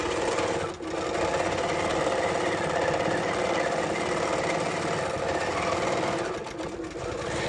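A Q Zone quilting machine on a Queen frame runs steadily, stitching a quilt: a fast, continuous mechanical chatter with a rapid needle rhythm, close and fairly loud, with a brief dip near the start and another near the end.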